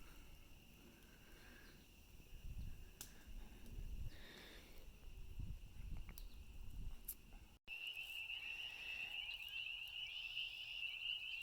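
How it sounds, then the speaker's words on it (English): Frogs croak at dusk outdoors near a cabin, faint and scattered pulses over a quiet background, joined later by a steady high insect-like trill. "As you guys can hear, frogs are in full force."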